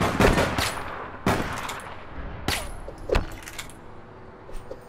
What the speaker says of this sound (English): They're shooting me from that way.